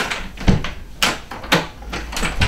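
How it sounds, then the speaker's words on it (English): A stubborn door lock is rattled and forced, a series of sharp clunks and metallic jolts at about half-second intervals, close and fairly loud, with no talking. "What the hell's wrong with this stupid door?"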